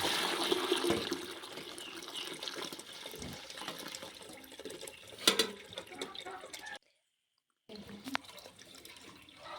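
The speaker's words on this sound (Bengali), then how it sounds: "ছোট হাড়িয়ে জল গরম করতে দিয়েছিলাম এখন বালতি ঢেলে নেবো" Hot water pours and splashes steadily into a bucket, with a couple of sharp knocks, a brief pause, then more pouring.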